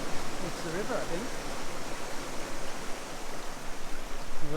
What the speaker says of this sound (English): where the creek meets the river, I think.